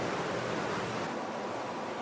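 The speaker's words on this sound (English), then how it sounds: "I can kick up a big wake." Water from a boat's wake washes and churns in a continuous broad rushing sound, steady and fairly close, with no voices.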